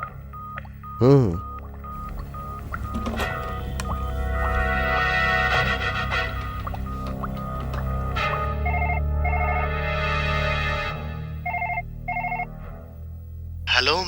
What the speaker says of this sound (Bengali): এবার ওকে ফোন করে নি।